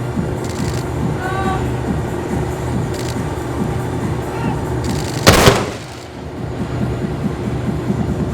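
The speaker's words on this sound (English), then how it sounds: "The 81mm mortars will now engage enemy at UCD target number 3" 81mm mortar firing at a live-fire power demonstration: one sharp, loud blast cuts through a constant rumbling, clanking background of vehicles and machinery.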